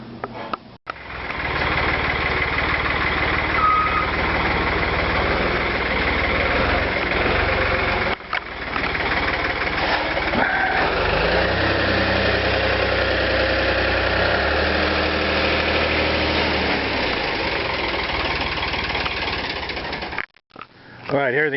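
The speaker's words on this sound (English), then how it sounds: "This hit and miss motor." An antique hit-and-miss engine runs steadily at a ranch estate auction, a continuous mid-pitched mechanical chugging and vibration heard close, with people talking over it throughout.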